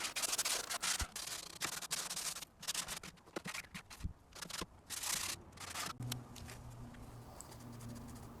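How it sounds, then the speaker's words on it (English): Wooden garden furniture being sanded outdoors, bursts of rough scratchy rubbing in uneven strokes, then quieter outdoor ambience with faint birdsong. "Next was a thorough sanding of the whole thing."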